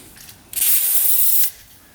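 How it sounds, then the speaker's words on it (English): WD-40 sprays onto a Honda dirt bike part to clean it: a single close, steady hiss that lasts about a second and stops abruptly, with quiet handling noise before and after. "So we're just gonna clean this out with some WD-40"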